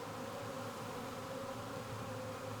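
Dense, continuous buzzing of many honeybees around a hive, steady and close, with no talking.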